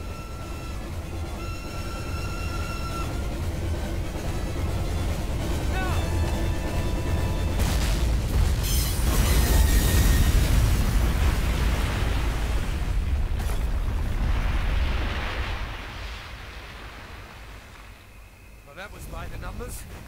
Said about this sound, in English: Detonate on my command